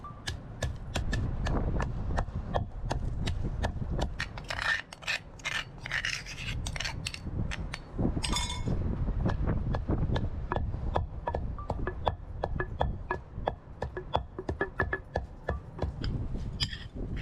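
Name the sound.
roasted peanuts ground in a mortar and pestle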